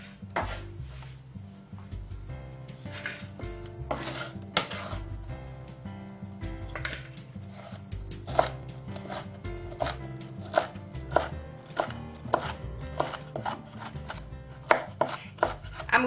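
Eggs chopped with a knife on a board, a long run of sharp, fairly regular close knocks that speed up in bursts toward the end, with no voices.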